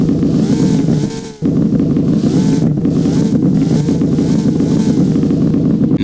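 A video game V12 sports car engine holds a loud, continuous high roar with slight pitch wavering and a brief dip partway through, no voices.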